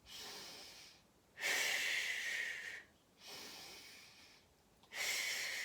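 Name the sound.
exhaling during Pilates exercise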